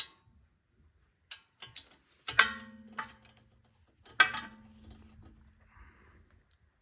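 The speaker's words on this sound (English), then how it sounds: "just go ahead and use your 10mm socket" A 10mm socket wrench tightens a screw that holds a replacement ABS wheel speed sensor on a car, giving a few scattered ratchet clicks and two sharper metallic bursts, close and fairly quiet, with no talking.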